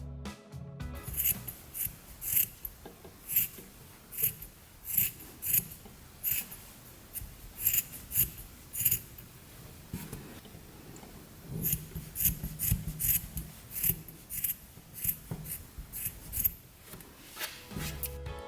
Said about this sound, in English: Backstitch along the lines and cut them out.